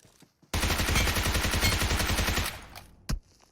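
Rapid bursts of automatic gunfire from a PUBG Mobile match hammer loudly for about two seconds in a tight steady rhythm, then one more sharp shot rings out after a short pause.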